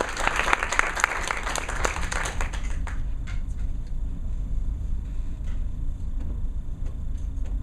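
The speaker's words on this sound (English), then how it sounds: "big round of applause for Kiara Diaz" Audience at a campus open mic night claps loudly for a performer for about three seconds, then the applause dies to a few scattered claps over a low room rumble.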